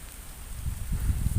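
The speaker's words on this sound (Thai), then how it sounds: "ฝนตกครับ" Light rain patters over a rice field, faint at first and then building into a denser soft hiss of drops, with nobody talking.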